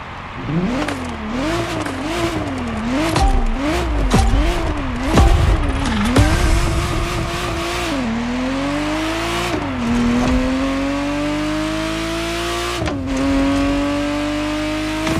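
A Ferrari Testarossa in The Crew Motorfest racing game roars through rapid rev-and-shift cycles, then climbs in long loud upshifts with faint tire noise, close and continuous with no talk.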